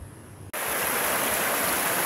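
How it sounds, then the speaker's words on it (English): Rapids of Tinkers Creek in a wooded gorge, heard as a broad, steady rushing of water that cuts in abruptly after a quieter half second and holds loud and unbroken. "I can hear the rapids from here."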